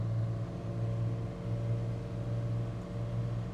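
A 1989 Dodge LE150 that has sat unused for years idles with a steady low engine hum and rumble. The drone wavers only slightly over a few seconds, with no clear rise in revs and no speech.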